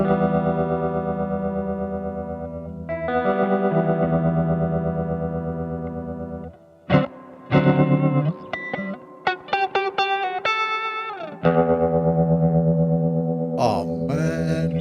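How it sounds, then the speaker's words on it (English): A Squier Telecaster electric guitar played through a sine wave tremolo pedal, sustained chords pulsing in smooth, even volume swells, then a run of sharper plucked notes and bright harmonics, loud and close with no voices. "sine wave tremolo."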